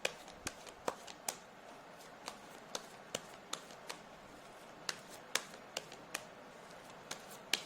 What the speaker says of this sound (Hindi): मैं एक और कार्ड निकालना चाहूंगी फॉर पाइल 3।